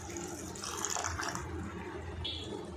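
Water is poured into a pan of chicken gravy: a steady, close splashing pour lasting a few seconds, with no voices.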